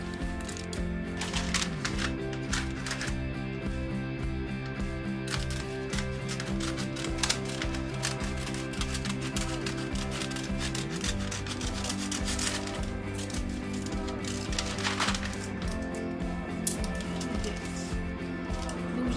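Scissors snip through a strip of material for an inexpensive handmade baby gift, with close, soft crisp cuts and rubbing sounds over a steady background of sustained musical tones.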